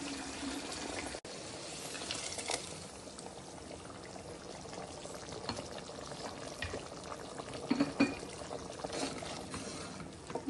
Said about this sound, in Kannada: ಸಾಂಬಾರು ನೋಡಿ ಎಷ್ಟು ಚೆನ್ನಾಗಿ ಕುದೀತಾ ಇದೆ ಒಗ್ಗರಣೆಯಲ್ಲಿ